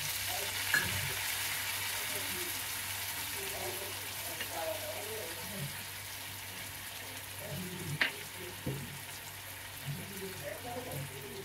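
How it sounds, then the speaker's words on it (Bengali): A bowl of water goes into a pan of hilsa curry in mustard-poppy gravy, setting off a steady hiss and sizzle with stirring scrapes and a few clinks, while someone talks over it. "এই দেখুন এক বাটি আমি জল দিয়ে দিলাম।"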